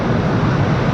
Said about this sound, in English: Little bit of reversers being applied there.